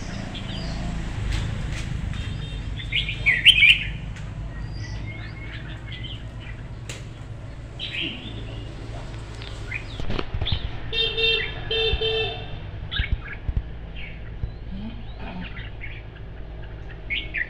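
Caged songbirds give scattered, sharp chirps and short twittering calls over a low background hum, with no talk.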